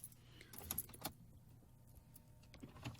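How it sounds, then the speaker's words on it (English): A key goes into the ignition of a Chrysler 200 in a garage, making quiet metallic jangles and clicks in a few short bursts close by. "I'm just going to stick the key in"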